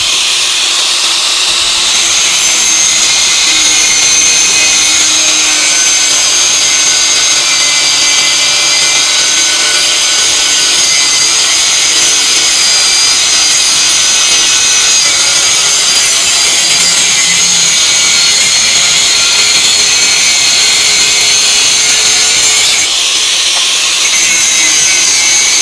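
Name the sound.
Dongcheng DSM21-100E variable-speed angle grinder cutting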